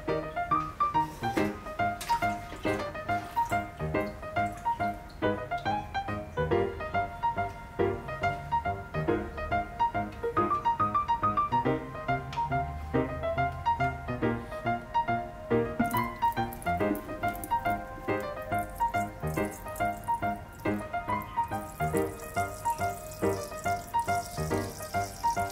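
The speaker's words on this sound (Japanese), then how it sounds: "では注水していきます" Water pours into a small planted aquarium tank as a continuous, close trickle and splash that stays level for a long stretch with no voices.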